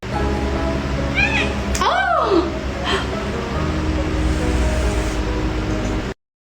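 A cat meows a few times, short rising and falling cries over steady background hum, with one brief clatter and a voice faintly present.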